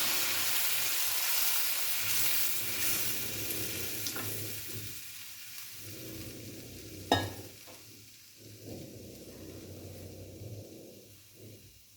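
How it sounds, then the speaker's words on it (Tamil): Coconut milk poured into a pan of roasted cashews for a coconut milk semiya sweet: a loud, steady sizzling hiss that settles into softer bubbling and stirring, with one sharp clink partway through and no speech. "முந்திரி நல்லா வறுபட்டுருச்சு இப்போ நம்ம இந்த தேங்காய் பாலை ஆட் பண்ணிக்கலாம்"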